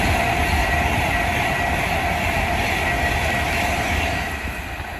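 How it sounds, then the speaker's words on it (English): An Avanti West Coast Class 390 Pendolino train passes through Lichfield Trent Valley station on the West Coast Main Line, a loud, steady roar of wheels and rushing air that holds for several seconds and eases slightly at the end. "Here is an Avanti West Coast Class 390 Pendolino."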